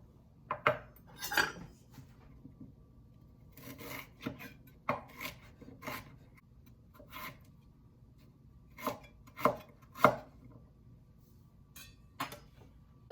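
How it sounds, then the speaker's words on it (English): Knife roughly chopping fresh ginger on a cutting board for ginger garlic paste, giving irregular close thuds and scraping taps at an uneven pace, with no talk. "I'll go ahead and roughly chop the ginger."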